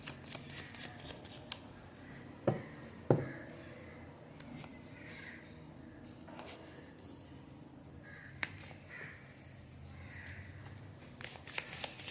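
Tarot cards being shuffled by hand, giving soft, quiet riffling and rustling with a couple of sharper snaps near the start and a faint room hush between bursts.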